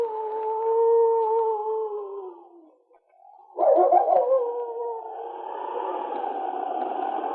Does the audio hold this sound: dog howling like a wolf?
yes